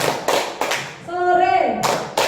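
A group of adults claps in a short rhythmic patterned cheer during a school training session on positive culture, with loud sharp claps in bursts around a brief voiced, sung-like chant in the middle.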